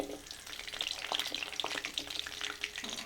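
Green chillies, garlic and dried red chillies sautéing in oil for a peanut chutney give a steady crackling sizzle with scattered pops and the odd stir, close and fairly quiet, with no talk.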